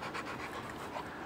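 A pit bull pants in the heat with quick, rhythmic breaths, close and fairly soft, with no talking.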